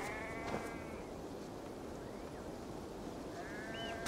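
A sheep in the game Assassin's Creed Valhalla bleats softly twice, once early and once near the end, over quiet ambient game background.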